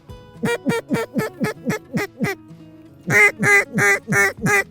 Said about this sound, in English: That's a duck.